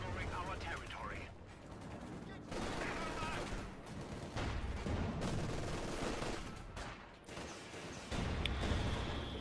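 A Maxim machine gun and mortars fire in a Company of Heroes 2 battle, with rapid rattling bursts and heavier thumps layered over continuous battlefield noise and a voice talking over it.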